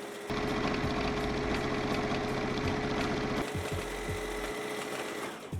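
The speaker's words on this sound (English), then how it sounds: "I used my sewing machine to sew them into the base layer panels" A home sewing machine stitches jeans panels into a base layer, running in a steady, rapid mechanical whir with a rhythmic needle clatter, close and loud, pausing briefly before resuming.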